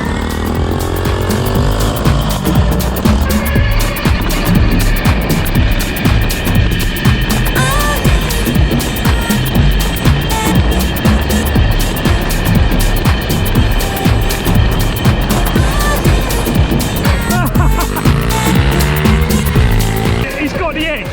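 An electric quad bike of about 2.5 kilowatts drives close by, with a continuous loud mix of whining motor, rumbling tyres and rushing noise that shifts in pitch as it speeds up and slows down.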